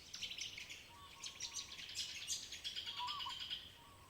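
Birds chirp and tweet steadily beside a garden gazebo in a quiet residential village, a busy mix of high, bright calls layered close and farther off with no talking.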